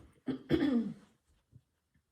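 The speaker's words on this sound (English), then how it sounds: "I feel like I'm about to have a coughing attack." A single person coughs nearby: a short sharp hack followed by a longer, rougher cough, then a couple of faint throat sounds in the quiet.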